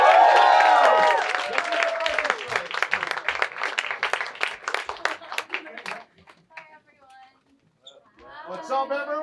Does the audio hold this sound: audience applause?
yes